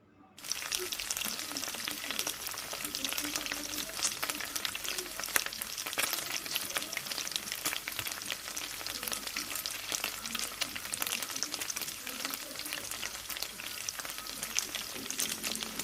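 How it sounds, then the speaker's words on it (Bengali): Chaikka fish fry in a little oil in a wok, giving a continuous, dense crackling sizzle that runs steadily and fairly quietly throughout with no talking. "এ পর্যায়ে মাছগুলো উপর নিচ করে ভেজে নিব।"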